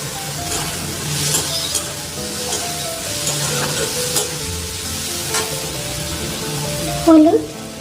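Shrimp and grated coconut fry in a pan with spices, a steady close sizzle under scraping stirring strokes, with an occasional clink of the utensil.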